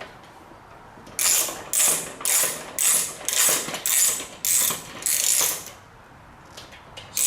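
A ratchet fitted with a 6mm Allen bit backs out a seat bolt on a Honda VTX 1300R motorcycle: about eight close, loud bursts of rapid clicking, each separated by a short pause, with no talk.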